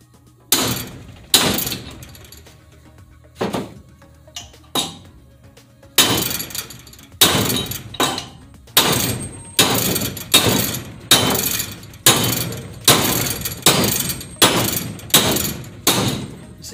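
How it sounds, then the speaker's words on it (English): A hammer pounding on a trashed GM 10-bolt rear axle housing during a rebuild, blows moved around the metal; loud, close, ringing strikes, scattered at first, then a steady rhythmic series of about a dozen heavy hits. "see how I'm moving the hammer around on it, not just hitting on one side or the other"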